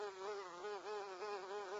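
Bees buzz in a TikTok mobile video game, a steady close insect drone with a repeating wavering pulse, heard alone.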